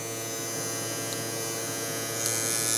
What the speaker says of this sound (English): I mean, it's a loud clipper